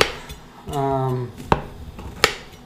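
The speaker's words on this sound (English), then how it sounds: "I'm going to just cut pieces on it" A knife cuts slightly dried cornbread into half-inch pieces for holiday cornbread dressing, with a few sharp clicks and taps of the blade against a pan or board and one brief tonal scrape, close and moderately loud.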